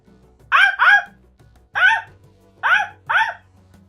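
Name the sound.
dog barking outside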